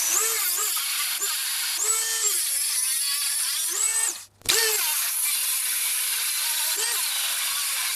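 A Dremel rotary tool with a cutting disc grinds into a tough bolt on a Jaguar F-Type, a loud whining buzz that rises and dips in pitch as it bites, with a brief pause midway.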